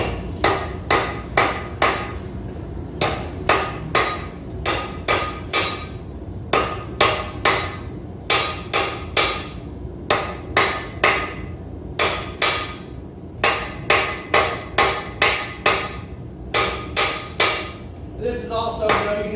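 A hammer forges the point of a blade on an anvil in rapid, sharp, ringing blows grouped in bursts with brief pauses, loud and close throughout.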